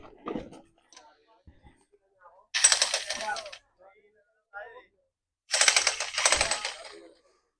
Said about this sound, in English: They're jackhammering a boulder.